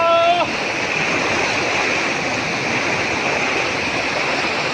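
Rushing flood water of a swollen river during heavy rain, a loud continuous roaring wash that fills the scene steadily, with a brief snatch of voice at the very start.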